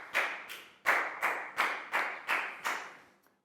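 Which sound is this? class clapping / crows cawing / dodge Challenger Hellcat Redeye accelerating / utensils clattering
class clapping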